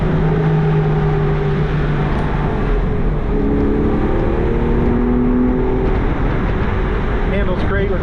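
A 2005 Porsche 911 Carrera 4S Cabriolet with the factory sport exhaust option drones steadily while driving, its engine note shifting pitch as it pulls through gears, loud and close under road and wind noise, with someone talking over it.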